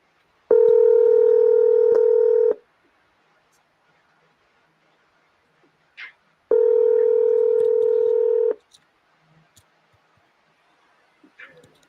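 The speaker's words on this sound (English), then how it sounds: "Oh no, you're getting called again." A telephone sounds two long, steady tone bursts a few seconds apart, each lasting about two seconds. Faint clicks and small noises fill the quiet gaps.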